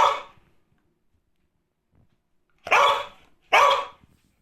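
Oscar the dog lets out one bark, falls silent, then gives two more loud, close barks in quick succession against an otherwise silent background.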